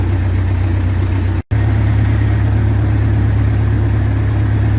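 A 1912 Ford Model T Speedster engine running steadily, a loud, close, even low drone with a constant whir and one very brief dropout.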